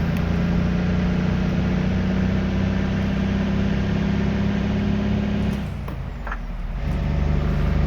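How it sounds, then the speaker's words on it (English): Deep, loud diesel drone of a Cat 3406B truck engine with Z-Mods sound through a 7-inch exhaust in American Truck Simulator, steady low rumble with a brief air-brake hiss near the end. "Pretty sure it's a Cat 3406B with a 7-inch exhaust, or recorded on a 7-inch exhaust."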